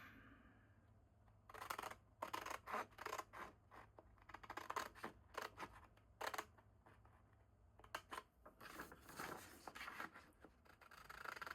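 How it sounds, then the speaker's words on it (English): Scissors snip paper repeatedly at close range, a quick series of crisp cuts and rustles with short pauses between bursts. "Need my cooler scissors for this"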